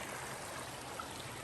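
Creek water flowing along a shaded stretch of trail, a steady, close, even rushing hiss with no pauses and no voices.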